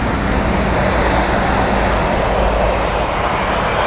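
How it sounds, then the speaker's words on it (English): Steady broadband roar of a Boeing 787-9 jet from Calgary arriving at London Heathrow, loud and continuous with no break. "Calgary flight in next is the 787-9"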